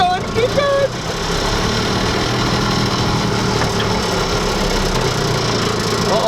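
A cheap golf cart's small engine strains and labours under throttle, a steady rough drone with uneven bursts, close and continuous, with voices speaking over it.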